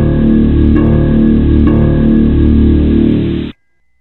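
A dense, ominous low droning tone plays continuously and loudly for about three and a half seconds, then cuts off abruptly, with nothing else heard.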